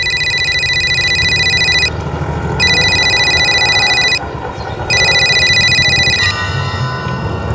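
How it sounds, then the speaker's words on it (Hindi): A telephone rings in three long electronic bursts separated by short pauses, loud and close, with a steady low background hum. "मेरे पास निहारिका का फोन आ गया।"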